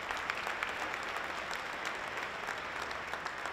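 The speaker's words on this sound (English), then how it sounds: "Let's give a round of applause for that." Steady applause from a room full of people, a dense patter of clapping that holds at an even level throughout.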